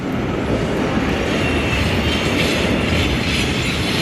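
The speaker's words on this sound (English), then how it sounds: "There's a train," A city train passes nearby in Perth, a continuous loud rumbling roar of wheels on rails with faint clatter, steady for the whole stretch.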